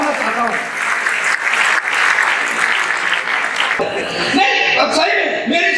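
Audience at a Hindi comedy poetry show breaking into loud, dense applause that continues throughout, with a voice speaking over it toward the end.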